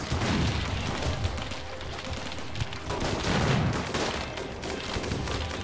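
Turret gunfire in the RimWorld video game, dense rapid bursts of shots and booming impacts blending into a continuous loud barrage across the whole stretch, with no talking.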